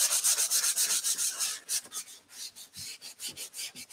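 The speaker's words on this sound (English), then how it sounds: "So what this is doing with the sanding, it's going to even things out a little bit." Painted leather chair being sanded by hand, with rapid rhythmic back-and-forth rasping strokes, close and steady, that slow into separate scrubs toward the end.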